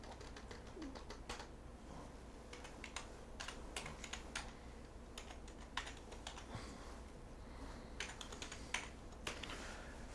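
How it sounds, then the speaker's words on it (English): Quick, irregular clicks of a computer keyboard as text is typed, close and fairly quiet, with short pauses between bursts of keystrokes. "I'm going to type in my text"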